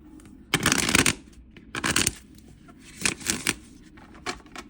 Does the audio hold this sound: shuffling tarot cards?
yes